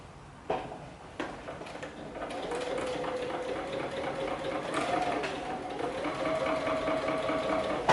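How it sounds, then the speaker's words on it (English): A domestic sewing machine runs a steady, continuous seam on a canvas and leather tote bag, close and moderately loud after a couple of short starting knocks, with no talking. "Sew it all the way to the top."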